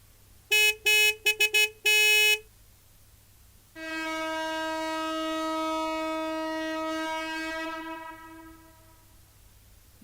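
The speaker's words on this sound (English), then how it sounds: "I'm passing a freighter. I got a honk." A passing freighter's horn sounds first in several short, loud honks, then after a pause in one long sustained blast of about six seconds that fades at the end.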